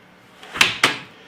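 Doors of a compact home beer machine are shut, two quick close clicks about a quarter second apart, near and fairly sharp, with a soft rustle just before.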